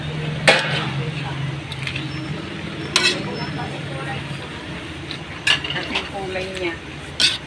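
Sitaw adobo (string beans in adobo sauce) stirred in a pan with a utensil, a soft continuous scraping and sizzle with several sharper clacks against the pan. A few faint voices are heard in the background.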